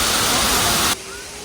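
Man-made waterfall in Korea on an evening around seven o'clock, a dense steady rushing roar that cuts off abruptly partway through, leaving a much quieter background wash.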